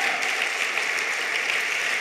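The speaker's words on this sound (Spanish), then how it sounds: "Dale un fuerte aplauso al Señor." A church congregation claps together in a steady, dense wash of applause that holds at an even level throughout, with no voices rising above it.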